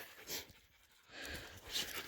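A dog from a hunting pack pants in rapid, breathy bursts outdoors, fairly close and soft, with wind-like hiss in between and no speech.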